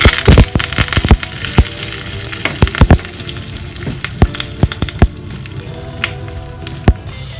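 Mustard seeds, sesame seeds and curry leaves fry in hot oil for a tadka, a close, loud steady sizzle broken by frequent sharp pops and crackles as the seeds burst.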